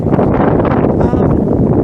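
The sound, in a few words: wind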